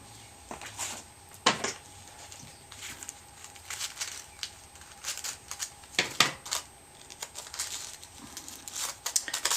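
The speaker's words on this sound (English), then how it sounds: "put some tissue paper on the leaves." Tissue paper is handled and pressed over wire flower leaves while crafting daisies, making soft, scattered crinkles and papery rustles close by, mostly faint with a few sharper crackles.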